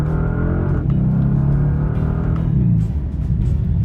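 A 2025 Bentley Continental GT Speed, without the W12 engine, drives on the road with a steady close engine drone that swells in pitch as it accelerates and then eases off near the end.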